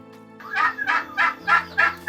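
A turkey gobbles repeatedly, five rapid rattling bursts in a steady rhythm, close by over a low constant hum.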